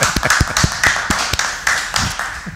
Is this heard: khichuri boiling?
no